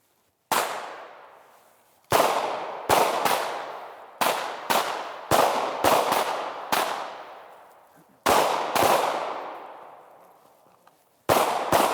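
Gunshots ring out during a moving-and-shooting drill on a range: about a dozen sharp, loud reports in quick pairs and short strings, each trailing off in a long echo, with pauses between the groups.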